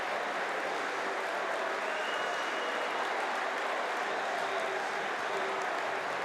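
A home crowd at a Swansea City versus Crawley Town League Cup football match applauds an opening goal, steady distant applause and crowd noise that holds evenly throughout.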